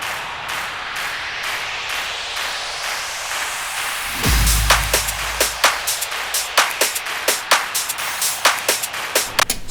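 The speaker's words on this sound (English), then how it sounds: "So all together, our drums and effects sound like this." Simple bass house drums and effects play together: a rising noise sweep leads into a deep bass hit, then sharp, steady percussive hits keep a quick groove going, with no talk.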